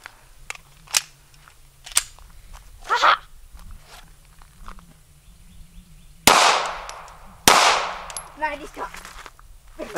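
A Canik pistol firing FMJ rounds, sharp cracks spaced a second or two apart, then two much louder close shots with ringing decay, over a low background hum.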